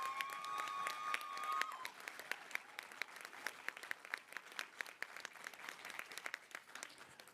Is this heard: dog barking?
no